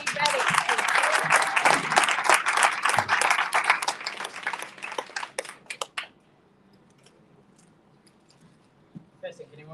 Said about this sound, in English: let's give Abel a round of applause while he's getting ready